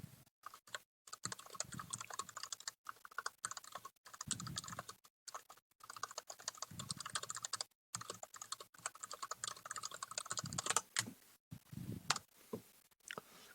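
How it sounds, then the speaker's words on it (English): Someone types quickly on a computer keyboard, producing faint clicky keystrokes in irregular bursts with short pauses, heard close up with no talking. "I'm typing a message in the chat real quickly."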